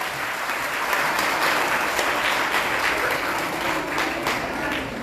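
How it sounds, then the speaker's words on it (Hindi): Audience at a Dua Foundation event in Maharashtra breaks into steady, sustained applause, a dense wash of many hands clapping at moderate distance for several seconds. "जोरदार तालियां बजा दीजिएगा डॉक्टर हीना के लिए"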